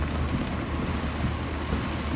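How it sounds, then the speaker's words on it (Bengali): Dense, steady roar of heavy rain from hurricane remnants pouring down in New York without a break, loud and close, with a deep rumbling low end and no voices. "প্রচণ্ড বৃষ্টি হচ্ছে"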